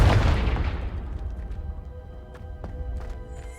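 A Confringo fire spell in Hogwarts Legacy bursts with a loud booming explosion at the start, then a rumbling decay with scattered crackles and small debris sounds, with no talk.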